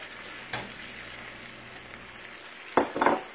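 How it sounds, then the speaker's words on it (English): Vegetables stir frying in a pan, with steamed carrots and onions tossed in, a steady soft sizzle broken by a sharp clack near the start and a couple of louder scraping stirs at the end. "since this is getting stir fried"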